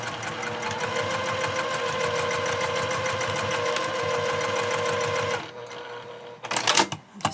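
A sewing machine stitches a drawstring project bag with steady, rapid mechanical chatter for over five seconds, then stops; a few louder clunks and rustles follow near the end.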